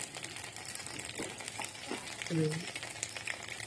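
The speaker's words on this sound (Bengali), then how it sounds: "এই দেখো আমার বড়া ভাজা হয়ে গেছে।" Bora fritters sizzle steadily in hot oil, a dense crackling hiss that runs throughout, with faint background voices underneath.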